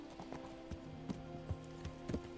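Horse hooves clip-clopping in the medieval video game Kingdom Come: Deliverance, a slow irregular series of soft thuds at walking pace over a low ambient hum, moderately close and fairly quiet.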